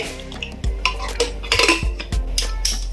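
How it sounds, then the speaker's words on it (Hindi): Metal pressure cooker lid being fitted and closed while cooking pav bhaji, several sharp metallic clanks and scrapes of lid against pot, close and loud, with no talking. "कुकर के ढक्कन को बंद करके"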